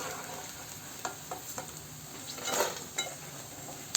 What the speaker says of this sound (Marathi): असा तडतड तडतड आवाज आला की समजायचा डिंक पूर्ण फुलला आहे